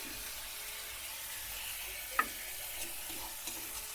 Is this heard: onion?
yes